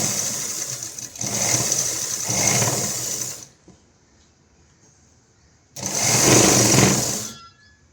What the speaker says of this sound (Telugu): మళ్ళీ ఇలా తిప్పి ఇటు సైడ్ నుంచి మళ్ళీ ఇంకో స్టిచ్చింగ్ వేయాలి.